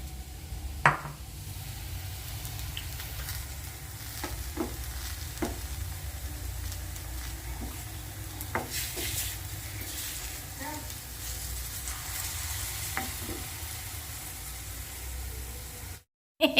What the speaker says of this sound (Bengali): কলার বড়া ভাজা চলছে